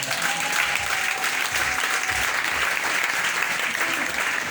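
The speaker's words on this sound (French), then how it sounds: "Oh, tu peux acclamer le Seigneur pour moi." Sustained, dense applause and cheering rise from a church congregation acclaiming the Lord, an even wall of clapping from many hands with a voice faintly beneath.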